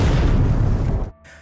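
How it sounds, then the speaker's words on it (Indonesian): Suicide explosion set off by a sniper in an animated action series: a loud, dense blast roaring for about a second, then cutting off abruptly into a low fading tail. "Sniper ini kemudian meledakkan diri sebagai upaya terakhir menyelesaikan misi untuk membunuh Gu Zhenfeng."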